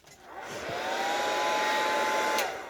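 A heat tool whirs up and blows steadily over a mixed media art journal page coated with Dylusions sprays and Gelli prints, a loud close fan hum with a whine that holds for about two seconds before easing.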